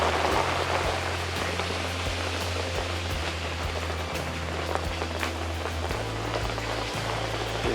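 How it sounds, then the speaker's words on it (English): Rain falling steadily outside on a wet Queensland day, a constant soft hiss with scattered drip taps and a low hum underneath, moderately faint and uninterrupted. "hasn't stopped raining since the minute I got out here."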